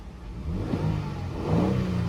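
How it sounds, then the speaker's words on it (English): A Lexus LX600 SUV engine revs up twice in quick succession, the pitch rising and falling each time, loud and close. "We'll give it a couple little revs just to see how it sounds."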